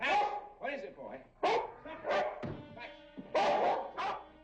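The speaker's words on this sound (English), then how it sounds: "Put the dog away, Longstreet, or I'll kill him." A dog barks repeatedly in sharp, close bursts, a series of about six or seven barks with short gaps, mixed with some yipping and whimpering tones.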